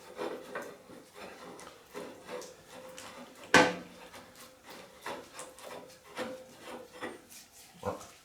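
A 45-degree pipe fitting being screwed onto a riding mower exhaust gives faint, repeated scraping and rubbing strokes with one sharper knock midway, close by and with no voices.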